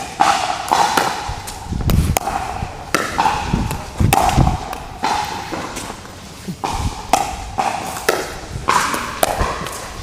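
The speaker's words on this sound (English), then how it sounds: "So I'm dinking cross court, and then I'm also working on speed ups at him down the line" Pickleball paddles strike the ball in cross-court dinks and down-the-line speed-ups, giving a string of sharp, hollow pops at an irregular rally rhythm with soft footsteps and court noise between them.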